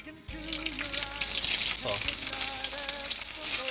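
Loud, steady sizzling and crackling of frog meat dropped into hot oil for deep-frying, with a hissing wash and faint voices or tones underneath.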